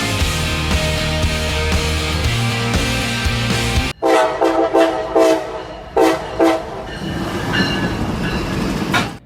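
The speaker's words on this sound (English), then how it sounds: "The CSX ST70AHs are powered by the EMD 12-cylinder 1010J series engine" A loud CSX ST70AH diesel locomotive horn blares steadily, then cuts to its rumbling EMD 12-cylinder 1010J engine with repeated sharp clanks and bursts of horn, close by.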